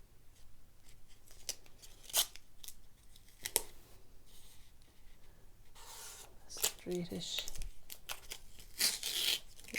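Masking tape is pulled from a roll and torn off to mask a painting, making close, quiet rasping rips and crinkles in irregular bursts.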